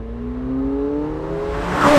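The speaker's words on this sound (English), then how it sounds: "how wicked this engine sounds" A McLaren 750S sports car engine revving in sport mode, its pitch climbing steadily and growing louder into a harsh roar at the end.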